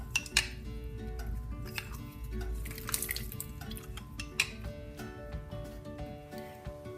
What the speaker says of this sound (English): I got my fancy lime juicer.